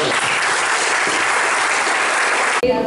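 Audience applause after a speaker is introduced during a virtual trial panel event, steady dense clapping filling the room for nearly three seconds before cutting off abruptly.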